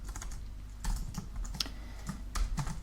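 Keys on a computer keyboard being typed in short irregular bursts, close and fairly quiet, with scattered clicks and a few louder strokes, no talking.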